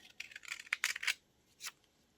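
Scissors snip through paper for a surreal bird collage, several quick close cuts in an uneven burst, then one last snip after a short pause.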